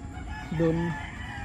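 A backyard rooster lets out one short crow among hens, close and clear over a low murmur of farmyard background noise.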